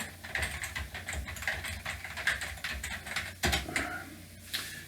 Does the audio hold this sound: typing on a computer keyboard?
yes